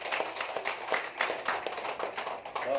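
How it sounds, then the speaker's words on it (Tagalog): A church congregation claps together after a Gospel reading, a steady run of moderately loud, overlapping claps over a few seconds. "Ito po, minsan pang malakas sa palakpak para sa ating buhay ng Diyos."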